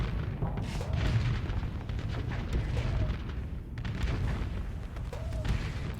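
A Gauss Cannon fires in the space combat game Starsector, heavy booming shots rolling out in a steady rhythm of about four blasts over dense rumbling battle noise, loud and close.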